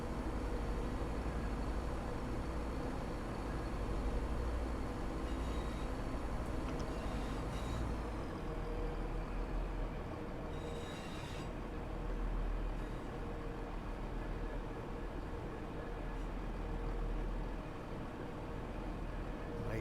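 A London Overground Class 710 electric train in Train Sim World 4, with a sound mod, gives a steady, low rolling rumble of running gear and motors that continues evenly for about twenty seconds with no talk.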